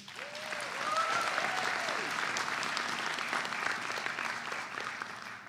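Sustained audience applause at the BAC 2022 commencement ceremony: a dense, steady wash of clapping that stays loud throughout, with a few faint voices mixed in.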